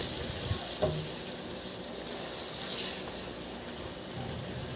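Squid adobo simmering under a lid in a pan, a steady soft sizzle and bubbling hiss throughout, with one faint clink early on and no voices.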